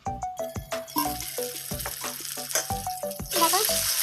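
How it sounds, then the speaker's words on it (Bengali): Fish fries crisp in a pan with a crackling sizzle under a run of sharp, rhythmic metallic clanks, and a burst of louder bubbling spatter near the end. "দেখো সব মাছগুলো ভেজে নিচ্ছি কড়া করে"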